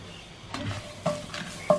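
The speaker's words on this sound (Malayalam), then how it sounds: "ഇതിലേക്ക് ഞാൻ 2 ടേബിൾ സ്പൂൺ തേങ്ങ കൂടി ഇട്ടിട്ട് നമ്മൾ ഇതെല്ലാം കൂടി വറുത്തെടുക്കും." Whole spices and grated coconut dry-roasting in a pan for a fish curry masala, with a few distinct scraping stirs and soft rustling over a quiet background.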